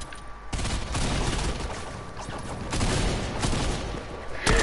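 Pistol fire in a video game rings out in repeated bursts of sharp shots across a few seconds, loud and close, with a brief quieter pause before the volley starts.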